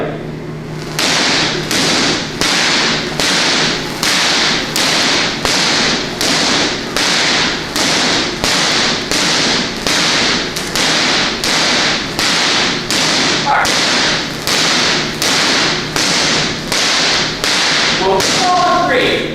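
A million-volt artificial lightning discharge at a science museum crackles in a steady series of loud, sharp snaps, about one per second, continuing for nearly twenty seconds.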